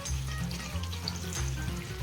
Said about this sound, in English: I have poured one bowl of water.